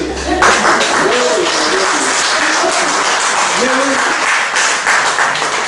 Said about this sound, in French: applaudissez seulement